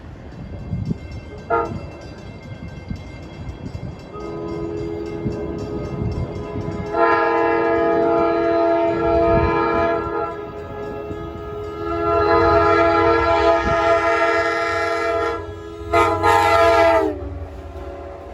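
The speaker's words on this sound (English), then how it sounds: "Approaching on track 1 is train 1256. En route from New York to Cold Spring Harbor." A Long Island Rail Road train, number 1256 bound from New York to Cold Spring Harbor, approaches New Hyde Park station during the evening rush, sounding its horn in several long loud blasts over the rumble of the rails.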